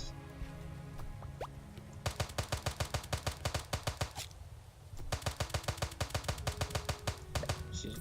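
Rapid bursts of gunfire from the 2D sandbox video game Starbound, two runs of quick evenly spaced shots with a short pause between them, loud and upfront over a faint game background.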